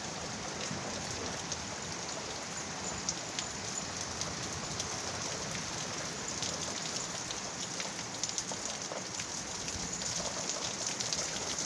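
Heavy rain pours steadily during a thunderstorm in Corpus Christi, Texas, a dense, even hiss of drops on surfaces that holds without pause, with no thunder or voices.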